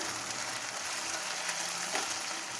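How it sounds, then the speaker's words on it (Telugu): Ginger-garlic paste frying in a pan for methi chicken, a steady dense sizzle and crackle that holds evenly throughout, close and moderately loud with no voices. "అల్లం వెల్లిపాయ బాగా వేగి స్మెల్ రావాలండి అది కూడా ఎర్రగా వేగాలి"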